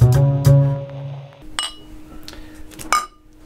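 Glasses clink together in a toast, two bright ringing chimes at the start followed by a few lighter taps and clinks amid quiet room noise.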